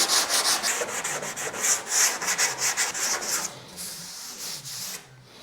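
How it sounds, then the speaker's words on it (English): Light-pressure hand sanding on a truck body panel near a C10 grille, steady back-and-forth rasping strokes with sandpaper, close and continuous, then easing to softer, quieter strokes toward the end. "Just real light pressure. I'm not pushing on it. Letting the sandpaper do all the work."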